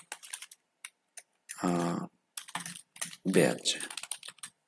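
Clicking keystrokes on a computer keyboard in short bursts, with a person speaking between and over the typing.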